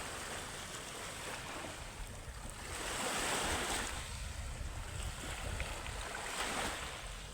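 Sea waves wash against a rocky shoreline at Katburawan, Ligaw City, with boats nearby, a steady roar of surf with a gentle swell midway, some wind buffeting the microphone and no voices.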